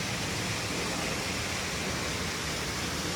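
A waterfall roars in a rainstorm on a hiking trail: dense, steady rushing water that fills the whole space without a break.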